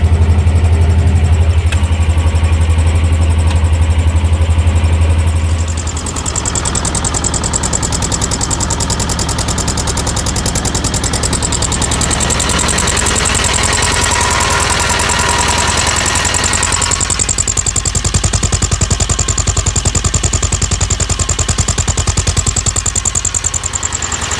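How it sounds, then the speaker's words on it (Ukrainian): A T-25 tractor engine runs steadily and loudly throughout while pulling an Agrozet potato planter, a continuous low rumble with a mechanical clatter that shifts slightly in tone partway through. "Це 25 дуже легкий трактор"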